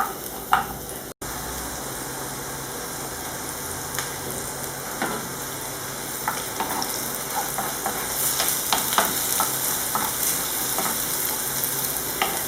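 Onion sautéing in a pan for a tomato-sauce mussel tajine, a continuous close sizzle with scattered clicks and light scraping from stirring, no voices.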